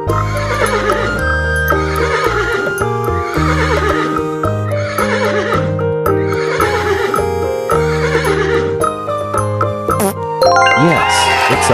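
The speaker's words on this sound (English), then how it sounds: "Yes, it's a horse." Horse neighing: a loud, close whinny repeated several times in quick bursts, with clip-clop hoofbeats and jingling harness bells, backed by music.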